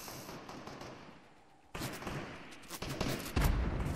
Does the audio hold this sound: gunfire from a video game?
yes